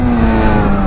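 Close, loud engine drone from a Honda Hornet motorcycle running without a catalytic converter, holding a steady raspy pitch for under a second.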